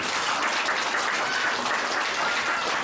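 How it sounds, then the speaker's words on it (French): Steady, dense applause from a crowd honoring President Alpha Condé at a public event in Guinea, loud and continuous throughout with no break. "Je vous demande d'applaudir le président Alpha Condé"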